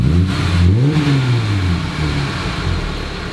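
A Chevrolet Silverado RST pickup's Magnaflow exhaust revs up and settles back, a deep throaty rumble rising in pitch then easing into a steady drone, close by.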